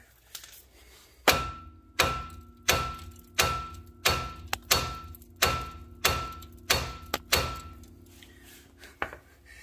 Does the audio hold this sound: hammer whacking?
yes